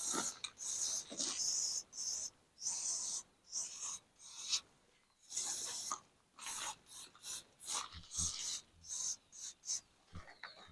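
Anti-rust spray hissing onto the bolts of a snowblower being readied for storage, in repeated short bursts separated by pauses, fairly quiet and close.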